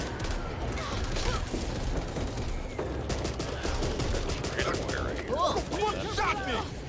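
Back 4 Blood combat erupts with sustained automatic gunfire, rapid overlapping shots and mechanical clatter filling the scene at close range, while players talk over the shooting.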